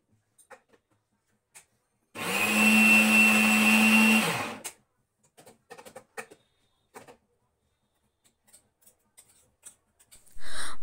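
Countertop blender whirs steadily for about two and a half seconds, grinding amla and ginger with a splash of water into paste, then stops, leaving faint clicks and small handling noises before a second loud burst at the end.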